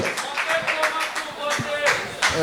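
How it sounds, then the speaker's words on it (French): Audience clapping for a woman named Edith, a fairly dense patter of hand claps at moderate level, mixed with a voice and some cheering across the whole stretch. "Applaudissez beaucoup. pour elle, s'il vous plaît."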